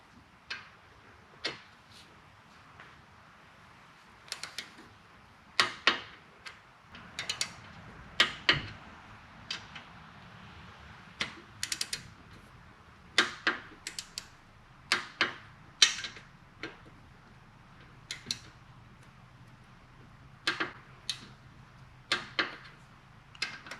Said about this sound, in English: Get our torque wrench and go back up to